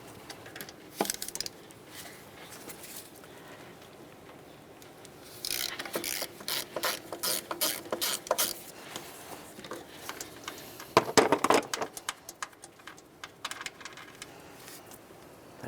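A ratchet loosens and removes a nut on a Toyota RAV4 engine during knock sensor replacement, heard as bursts of rapid clicking near the middle and again toward the end, close up, with no talk.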